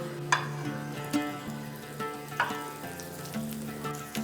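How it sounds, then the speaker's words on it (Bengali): A tablespoon of butter melting in a pan for white sauce gives a soft, close sizzle with a few distinct taps and clinks at intervals; no one speaks. "বাটারটা গলিয়ে নিচ্ছি"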